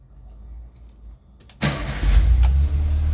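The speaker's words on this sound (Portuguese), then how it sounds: "O Pablo vai virar a chave só para ver se ele funciona" A Volkswagen Kombi with an oil leak, its oil-pressure switch under repair, is started with the key: a brief click and crank, then the engine catches and idles loudly close by.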